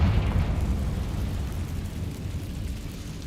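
Confringo blasting spell exploding in the Hogwarts Legacy video game, a loud boom that fades into a low, rumbling decay with no talk.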